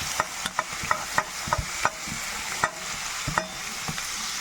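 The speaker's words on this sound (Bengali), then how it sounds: "এবার দিয়ে দেবো রসুন কুচি, লঙ্কা কুচি, আর দেবো পেঁয়াজ কুচি।" Chopped garlic, chilli and onion sizzle steadily in a hot pan for a prawn and egg omelette, with a continuous frying hiss broken by regular scrapes and taps of a spatula stirring.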